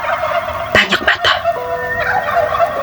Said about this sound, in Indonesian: Dan suara ayam. Tapi bukan ayam biasa. Suara itu serak, parau, seperti jeritan makhluk kesakitan.